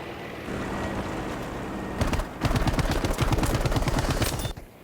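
Rapid bursts of gunfire in a Battlefield 5 match on Wake Island, shooting into a smoke screen; a steady engine-like rumble runs first, then about two and a half seconds of loud, dense rattling shots before an abrupt stop.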